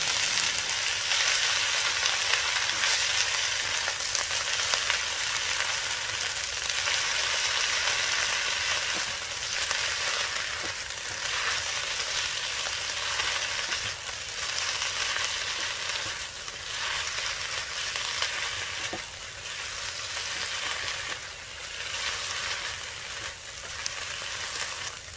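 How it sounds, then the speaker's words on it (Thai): Kae Na flowers stir-fried in a pan, for a Kae Na flower and egg stir-fry, give a steady, loud sizzle with repeated scraping and stirring strokes throughout, close up with no talking. "ใส่ดอกแคนาลงไปจากนั้นก็ผัดต่อค่ะผัดไปเรื่อยๆค่ะจนกว่าดอกแคนาจะสุกค่ะ"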